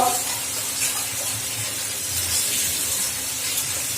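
Leaves rinsed under a running kitchen tap, a steady soft hiss of flowing water with faint splashing that continues without pause.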